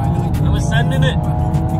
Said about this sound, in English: And we're braking.